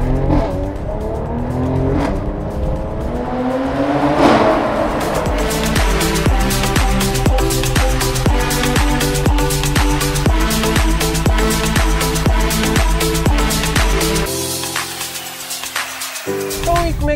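A Mercedes-Benz C43 AMG cabriolet in Sport Plus mode accelerates hard from a traffic light, its engine roaring loudly and rising through the gears with sharp shift cracks before settling back.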